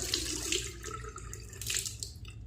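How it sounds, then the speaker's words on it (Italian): Clean tap water runs steadily from a faucet to rinse a Zenith 505 shaving brush, a continuous close hiss and splash at a bathroom sink with no talking. "Un po' d'acqua pulita."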